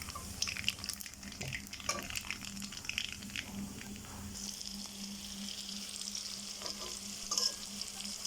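Black cumin seeds fry in oil at the start of a taro-leaf dish, giving a steady close sizzle with soft stirring scrapes and no one speaking.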